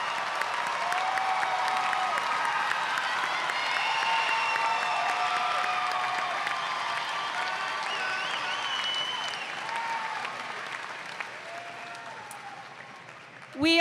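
A large commencement crowd applauds graduates at a spring university ceremony, producing a long, even wash of clapping with scattered cheers, tapering toward the end before a sudden noise closes it.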